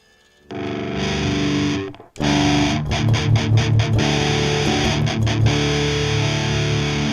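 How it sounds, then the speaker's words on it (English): A heavily distorted electric guitar rings out through a simulated mic'd amp cabinet, first one sustained chord, then after a brief cut a denser run of chugging, palm-muted notes. "It sounds like it's an amp cab being mic'd up."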